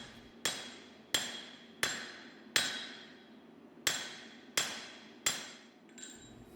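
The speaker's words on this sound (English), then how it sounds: "Now I'll jump over to the guillotine again and really set off the neck where the bolster meets the tang." Seven sharp ringing hammer blows on a guillotine tool, necking the bolster-to-tang transition of a forged integral chef's knife, each strike evenly spaced with a bright metallic ring decaying between hits.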